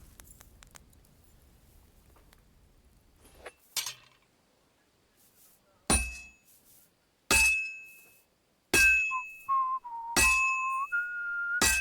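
Tuneful whistling rises and falls over a few seconds in Kingdom Come: Deliverance II, set against sharp metallic hammer clinks striking in a steady rhythm, loud and close, with no talk.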